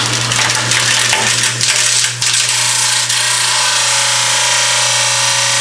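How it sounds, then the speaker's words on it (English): Kitchen sink garbage disposal food grinder switched on, starting with a clattering rattle and then settling into a loud steady motor hum and whir, close and alone. "I'm turn my food grinder on and see if it's working."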